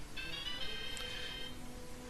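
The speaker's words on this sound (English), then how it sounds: "My cell phone just rang" Cell phone ringtone playing a steady electronic melody in sustained tones for about a second and a half, moderately loud under continuous background game sound, with no talking.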